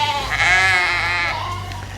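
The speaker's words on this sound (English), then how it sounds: "I've just walked into the newly weaned group of sheep" Newly weaned lambs bleat loudly and close by in a sustained, wavering cry, with other sheep calling faintly behind and a steady low farmyard hum underneath.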